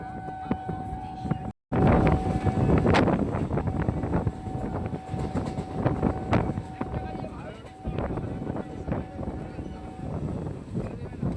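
A crowded Howrah to Tarakeswar local train running steadily, a continuous loud rumble with rattling and wind buffeting close to the microphone, a brief dropout near the start, and faint talk mixed into the carriage noise.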